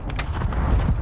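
A single loud sniper rifle crack in Warzone 2 on Ashika Island, then a booming tail that fades over the next second.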